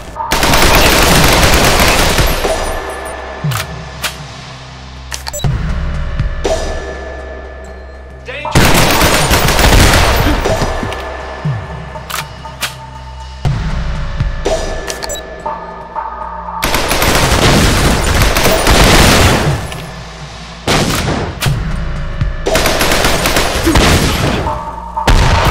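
Grenade launchers firing in the video game Garage: repeated loud, heavy bursts of fire and booming blasts in long waves, with quieter gaps between them and little talk.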